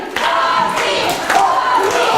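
Loud, continuous cheering and shouting from a pro wrestling crowd at a PWU live show, rallying behind Lucky 13 in a dense roar that rises near the end.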